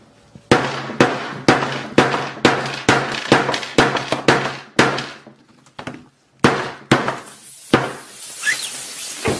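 Repeated sharp impacts ring out in a steady series, loud and close, with a brief pause before a few more strikes.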